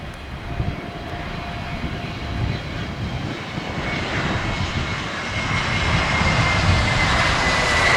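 A Vietjet Air Airbus A321neo lands on runway 07L, its engines a steady broadband roar that swells gradually louder and closer across the span, with no voices.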